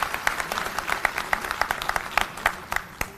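A crowd at a political rally in India claps in a steady, fairly even rhythm, with sharp individual claps standing out over a dense background of applause.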